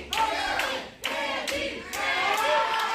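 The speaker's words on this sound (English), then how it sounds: "This crowd is pumped for Bert Candy" A wrestling crowd cheers loudly at a live match: a dense, sustained roar that swells in repeated bursts, with scattered clapping and shouting voices mixed in.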